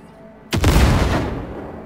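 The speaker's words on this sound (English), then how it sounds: "Now, detonate the grenade." A grenade detonates in Cyberpunk 2077: one sudden loud boom after a quiet moment, decaying into a rumbling tail that fades over about a second and a half.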